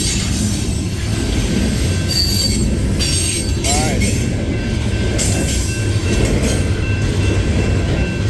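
A CSX freight train rolls past close by on the old B&O line, heavy rumbling with sharp metallic wheel squeals rising over a steady clatter throughout.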